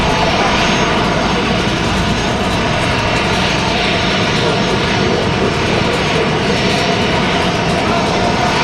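A Delta Airbus A319 jet sits at an airport gate, its engines giving a steady, loud, unbroken broadband roar and whine for the whole stretch, with no change in pitch.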